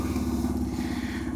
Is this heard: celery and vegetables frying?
no